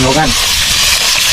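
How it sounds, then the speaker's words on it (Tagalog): Milkfish (bangus) and tilapia frying in hot oil, a loud, steady sizzling hiss, with a brief spoken word at the start. "Oh, ayan, magpiprito ng bangus si Julius."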